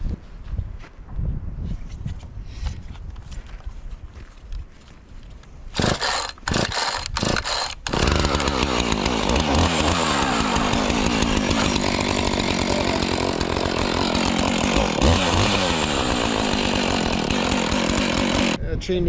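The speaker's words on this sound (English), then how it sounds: "See if we can get this saw going." After a few sharp starting pulls, a chainsaw with a slightly loose chain roars to life and runs loudly and continuously while bucking firewood logs outdoors in snow.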